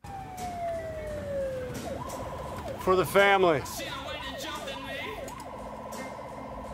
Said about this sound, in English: his partner was annoyed even by the siren